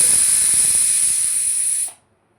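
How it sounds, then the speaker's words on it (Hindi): A pressure cooker whistle shrieks steadily with a hissing jet of steam while cooking stuffed tinda (round gourd) curry, then cuts off abruptly into silence after about two seconds. "ये कुकर में मेरे ये सीटी आ गई है"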